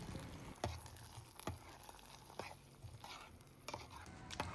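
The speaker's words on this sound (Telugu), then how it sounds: "ఇప్పుడు అంతా కలిసేలా ఒకసారి తిప్పుకోవాలి" Foxtail millet payasam sweetened with jaggery is stirred in a pot, giving faint, close scraping and swishing strokes with a few soft clinks at irregular intervals, without speech.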